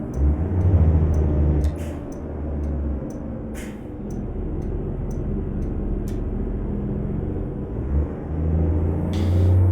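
A simulated American truck with a swapped engine pack and aggressive gear-shift points drives without cargo, its engine a loud, steady low rumble that swells and revs through the gears, with a brief high whoosh near the end.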